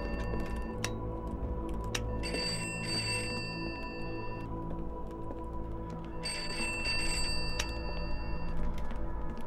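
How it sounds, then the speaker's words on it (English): A telephone ringing upstairs in the Pineview Drive horror game, two bursts of shrill bell-like ringing over a low ambient hum with faint ticks, heard at a moderate distance with no talking. "the next phone's ringing"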